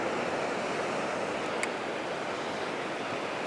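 Ocean waves wash in over a sandy beach at dawn, a steady broad roar of surf with some wind noise and no voices.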